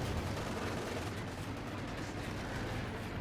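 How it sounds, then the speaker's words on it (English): Dense, continuous gunfire rattles through a Company of Heroes 2 battle, a steady stream of machine gun bullets mixed with distant battlefield rumble, with no pauses. "Poor Joey there got ripped apart by a stream of bullets"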